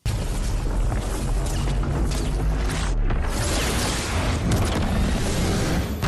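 Fortnite Crack-a-Doom explosion effect, a deep, sustained booming rumble with crashing, shifting texture and a brief cut near the middle, loud and dense throughout.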